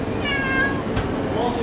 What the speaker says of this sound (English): And lots of kitties in there.